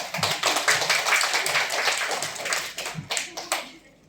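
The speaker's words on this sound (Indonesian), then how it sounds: "Tepuk tangan dulu buat kita semua" Audience clapping at a character education thanksgiving gathering in a Yogyakarta hotel, loud and close, a dense burst of many hands that thins out and fades near the end.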